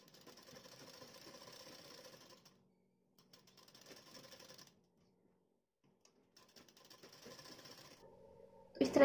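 A sewing machine stitches along the outer fabric of a blouse neckline, turning as it goes. Its whirring runs in short, moderately quiet bursts broken by pauses, and ends with a loud thump.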